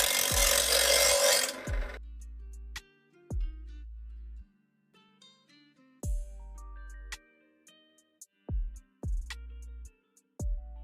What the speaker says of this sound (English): grind even from the base of the blade to make everything smooth and gradual